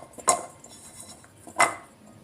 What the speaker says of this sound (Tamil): அந்த சில்லி பவுடரோட பொட்டேட்டோவும் போட்டுருவோம்